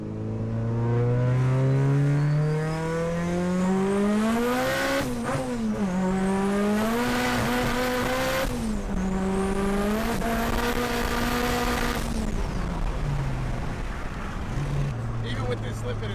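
A 500 HP Evo X race car with a slipping clutch accelerates hard through several gears, engine pitch climbing and dropping between shifts, loud and close with an occasional voice underneath.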